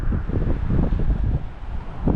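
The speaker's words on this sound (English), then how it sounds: "it is windy like crazy" Strong wind buffets the microphone on the Big Sur coast, a loud, steady roaring rumble with gusty surges throughout and no voices.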